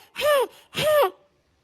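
A person out of breath after running takes two loud, close, voiced gasping breaths in quick succession, then falls silent.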